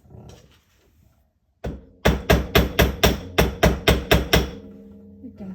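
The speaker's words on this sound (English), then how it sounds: "And I will hammer." About a dozen sharp metallic hammer taps on a copper leaf for a bracelet, in a quick, even rhythm, close and loud, after a brief quiet pause.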